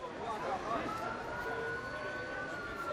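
Police sirens wail faintly in the distance beneath a busy, noisy background in Molenbeek, Brussels, their tone rising and falling steadily.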